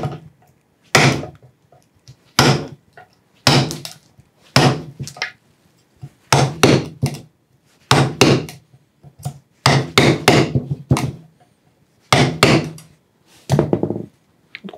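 Mallet blows strike a chisel cutting along the grain of wood for a carpenter's housed half-dovetail corner joint, repeated sharp thuds in quick pairs and bursts, close and loud with no talk.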